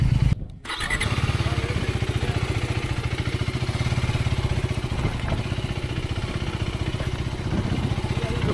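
Generation 3 KTM 390 motorcycle engine firing up with a brief burst, then settling into a steady, close, throbbing idle with a fast regular pulse.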